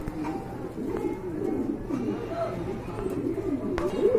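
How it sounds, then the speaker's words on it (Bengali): Andalusian pigeons coo in low, rolling, repeated calls close by, overlapping one another steadily with faint background voices underneath. "আরেক জোড়া কবুতর দেখতে পাচ্ছেন, একদম কোয়ালিটি ফুল কবুতর"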